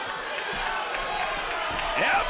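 Wrestling arena crowd roaring and cheering loudly and steadily at a dramatic kick-out in a Dragon Lee versus Andrew Everett ROH match, with the noise swelling toward the end.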